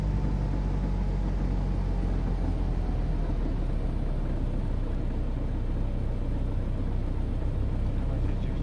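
A small aircraft engine idles at low throttle in the FlightGear flight simulator, a steady close drone and rumble with a slowly falling tone, running continuously without pauses or speech.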